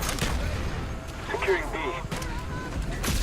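Gunfire in the jungle map of Call of Duty Black Ops, muffled distant shots and blasts in the background while someone talks over them throughout.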